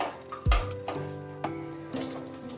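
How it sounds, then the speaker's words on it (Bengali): Whole red chilli and black mustard seeds fry in mustard oil in a pan, with soft sizzling, a few sharp stirring clinks and light utensil taps, close and fairly quiet. "সর্ষের তেলের মধ্যে দিয়ে দিলাম একটা গোটা পাকা লঙ্কা আর দিয়ে দিলাম পরিমাণ মতো কালো সর্ষে"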